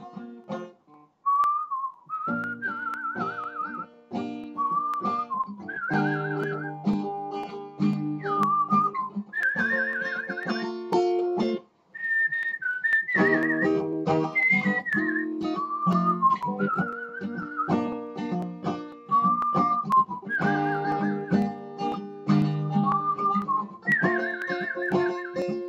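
Cheerful melodic whistling carries a bouncy tune over a plucked instrumental backing, loud and close, with short trills and pauses between phrases.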